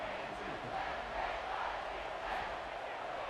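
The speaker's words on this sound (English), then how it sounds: "this crowd is buzzing after that last score" A football stadium crowd roars and buzzes steadily after a touchdown, a dense, continuous wash of cheering voices with no breaks.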